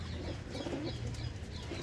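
Pigeons belonging to a Punjabi pigeon keeper coo softly and low in a continuous murmur, with faint wing flutters in the background and no talking.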